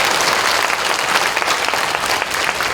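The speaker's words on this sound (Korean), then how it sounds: "우리 먼저 하나님께 영광의 박수 크게 한번 드리겠습니다" A church congregation claps loudly and steadily during an anniversary ordination service, a dense, continuous wash of applause filling the hall from start to finish.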